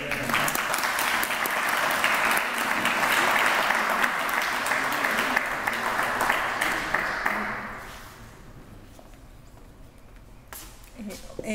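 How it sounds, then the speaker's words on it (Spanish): An audience at a formal tribute ceremony breaks into sustained, dense applause for about seven seconds, then it quickly fades to a quiet room with a few scattered claps. "semblanza de Carlos Alberto Montaner, recibamos con un aplauso a su hija, Gina Montaner."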